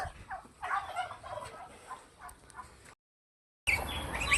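Turkeys gobble and chatter nearby in bursts, followed by a brief silence and then more bird noise.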